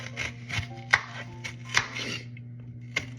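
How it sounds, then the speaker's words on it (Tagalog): A red onion chopped with a knife on a board: about half a dozen crisp, evenly spaced thuds over a low steady hum, close and clear, with no talk. "ngayon naman, maghihiwa tayo ng onion"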